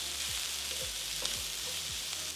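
Stuffing mixture with stock and cracked black pepper is stirred in a pan on the stove: a steady, close sizzle with soft scraping strokes repeating about every half second, and no talk.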